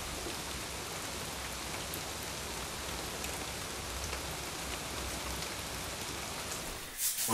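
Rain falls outside a wooden cabin as a steady, soft hiss of drops on the roof and ground, even and unbroken, with a faint knock near the end.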